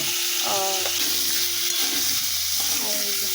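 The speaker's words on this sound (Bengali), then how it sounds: "মা নুন আর হলুদ দিয়ে আলুগুলোকে এবারে ভেজে নেবে" Steady, loud sizzling of potatoes with salt and turmeric frying in oil, with occasional stirring scrapes and clinks over the continuous hiss.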